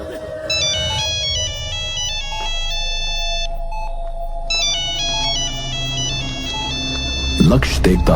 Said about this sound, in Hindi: फोन लगातार रिंग हो रहा है।